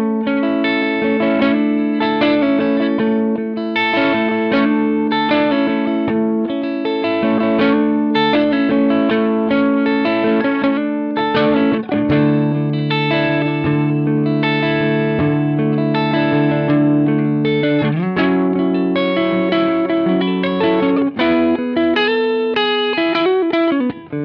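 Electric guitar through a Gibson Custombucker neck pickup into a clean amp plays a continuous, close, loud passage of ringing notes and chords, warm and sustained, with no voices.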